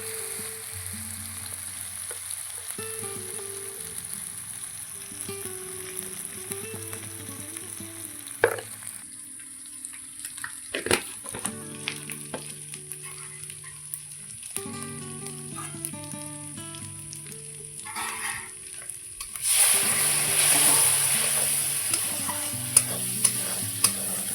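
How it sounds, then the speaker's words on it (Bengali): Ginger, garlic paste and spices, with turmeric and chili powder, frying in a pan, a steady sizzle under repeated scraping stirs and clinks, growing louder and hissier near the end with nobody speaking. "মশলাটা কিন্তু কষানো হয়ে গেছে"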